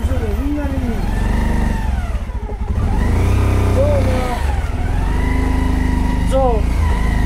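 Car and motorcycle engines on a congested street hum and rev close by in a continuous roar, with rising and falling engine tones and voices talking over the traffic.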